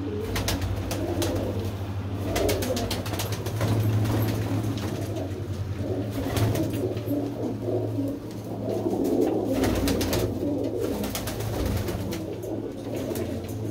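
Kalsara pigeons, an old heritage breed, coo steadily in an open loft fitted with stacked perches, the low rolling calls overlapping near and continuous throughout, with faint background clatter.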